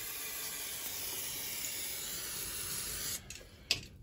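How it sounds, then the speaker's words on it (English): A steady aerosol spray of brake cleaner on a Honda Jazz gearbox hisses continuously for about three seconds, then stops with a couple of short clicks and bursts. "So we now just give that a spray down with some brake cleaner."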